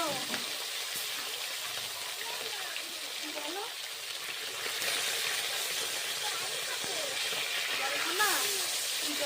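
Fish slides into hot oil in a home kitchen, producing a loud, continuous sizzling hiss that swells partway through, with a voice talking underneath.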